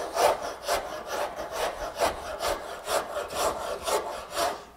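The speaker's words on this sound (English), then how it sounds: "you could go from that faceted surface we just created with the draw knife and rasp it" A rasp worked back and forth across a faceted wood surface left by a draw knife, about ten steady, evenly spaced scraping strokes, close and clear with no voices.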